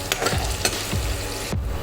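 Onions sauté in a pan until golden brown, sizzling steadily while a utensil stirs and scrapes through them in several quick strokes, close and clear with no talking.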